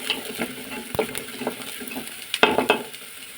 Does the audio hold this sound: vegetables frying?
yes